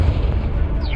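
A Confringo blasting spell detonates in the Hogwarts Legacy video game, a dense, booming explosion rumbling continuously for about a second with heavy low-end weight and no voices over it.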